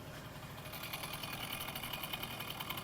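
An old moped engine idles up close in freezing winter cold, a rapid, steady putter with a rhythmic, slightly knocking pulse and no voices over it.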